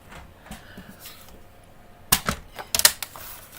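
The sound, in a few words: cutting paper card down to size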